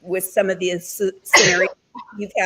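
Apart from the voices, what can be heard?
sneeze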